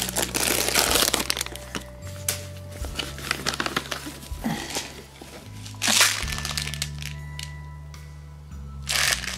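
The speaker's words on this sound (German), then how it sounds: "die Tüte, die ich gerade weggeschmissen habe, das war einfach Müll aus meinem Auto" A plastic bag of rubbish from a car crinkles and crackles loudly up close, rustling in bursts with sharper crunches over several seconds, backed by a low steady hum.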